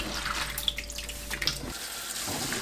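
Running tap water splashing over cabbage being rinsed after a vinegar soak, a steady close stream with small drips and shifting splashes, then the flow changes near the end.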